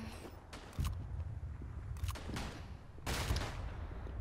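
Gunfire in the World War I shooter Battlefield 1 during the Battle of the Argonne, with three loud bursts of shots cracking out at intervals over a constant low battlefield rumble.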